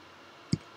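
A single sharp computer mouse click, close and brief, over a faint steady room hum, made while clicking through a setup wizard for a RADIUS server and access point.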